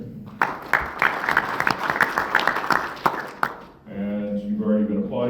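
The audience at a closed-door candidate forum of the OnePoint Association gives a burst of close, crisp applause for about three and a half seconds. It stops abruptly and a single voice begins speaking.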